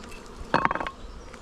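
A brief burst of honeybee buzzing close by at a hive, a wavering hum lasting under half a second over a quiet background.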